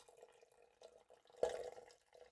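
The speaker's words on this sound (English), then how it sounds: "Just pour your boiling water in" Boiling water is poured into a tea diffuser, a faint soft trickle and patter with a brief louder splash midway, close and quiet.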